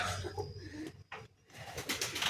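Pigeons in their loft cooing softly while feeding, low murmuring coos with brief pauses, fairly quiet and close.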